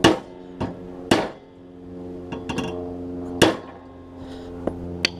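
Several sharp metallic hammer strikes on a John Deere D110 mower deck ring out at irregular intervals, each a loud clang with a short ringing decay, close by and with no one talking.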